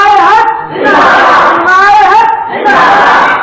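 A crowd at a religious gathering chants a slogan in loud, full-throated bursts, three surging waves of massed voices with short gaps between them, very close and overwhelming.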